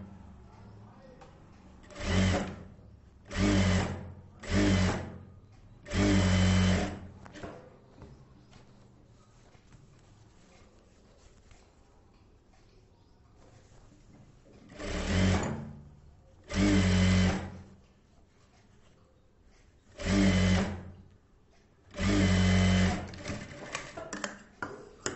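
A sewing machine stitches a cross belt piece onto a blouse body in several separate runs of a few seconds each, a steady close whirring broken by pauses with quiet handling of the fabric.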